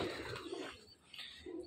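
Pigeons coo softly with low, throaty murmurs, faint and somewhat distant, in a short stretch without talk.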